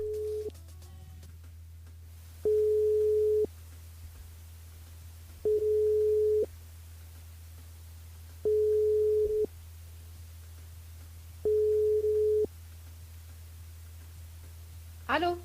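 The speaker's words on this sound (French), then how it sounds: "On appelle Véronique du côté de la Titille." Telephone ringback tone on a call to a radio contestant, four evenly spaced one-second beeps separated by silences over a low steady hum.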